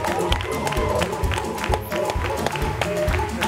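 Steady, energetic applause and crowd cheering for a gospel musician, with rhythmic clapping running the whole way and voices and tonal sounds layered above.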